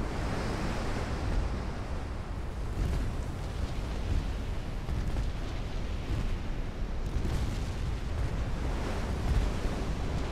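Destroyer gunfire and explosions from a naval battle in Ultimate Admiral Dreadnoughts form a dense, continuous rumbling roar of overlapping blasts with no pauses.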